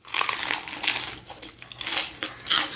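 Close, loud crunching from biting into crispy fried turkey country fried steak, several bursts of crackling crunch in irregular rhythm with no talking.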